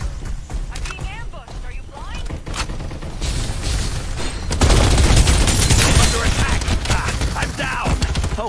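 Gunfire in the battle game Farlight 84, with bursts of shots and booms growing denser and louder midway, under frequent excited talking.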